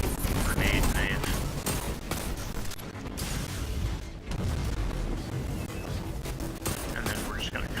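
Destiny 2 combat as a grenade goes off and a throwing knife is launched, with heavy booms and dense gunfire layered over a constant game soundscape.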